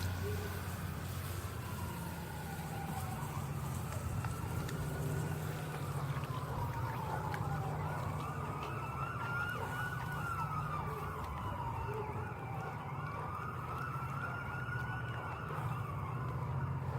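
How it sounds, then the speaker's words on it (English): Emergency vehicle sirens wail in the distance, slow rising and falling tones sweeping repeatedly over a low steady rumble in an indoor kitchen, faint but continuous with no talking. "those sirens you hear in the background"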